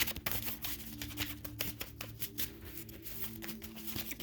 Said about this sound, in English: I like to shuffle the decks very thoroughly.